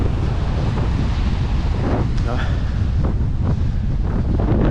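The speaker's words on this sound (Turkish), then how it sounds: "İnanılmaz sert bir rüzgar esiyor." Strong, steady wind roars across a kitesurfing beach, a dense, unbroken rush with gusty swells and faint surf beneath, loud and close to the microphone.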